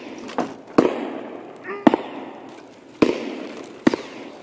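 Gunshots in the video game Escape From Tarkov, several sharp cracks spaced irregularly about a second apart, some close and loud with short echoing tails, over a low ambient background.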